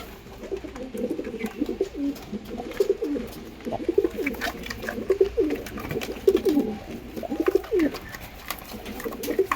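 Malawi and Teddy pigeons coo in a loft, with repeated low, throaty rolling calls close by that overlap in an uneven rhythm and carry on without pause.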